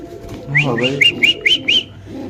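Giribaz pigeons call up close: a soft low note followed by a quick run of about six bright, even, whistle-like notes, with faint background noise underneath.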